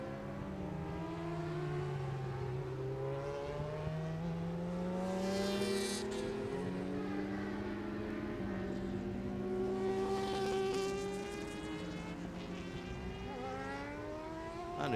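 Superbikes race around a circuit in the Masters Superbike Championship, several engines whining and shifting pitch as they pass at a distance, a continuous overlapping drone.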